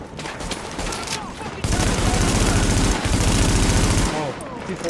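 Automatic gunfire in The Division video game, a sustained rattling burst of rapid shots over busy game sound, loud and continuous for several seconds.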